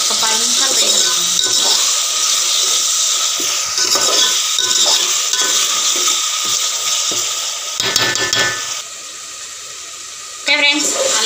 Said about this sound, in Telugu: ఒకసారి కలుపుకొని ఇంకా వేగనిద్దాం ఒక 10 నిమిషాలు వేగనిద్దాం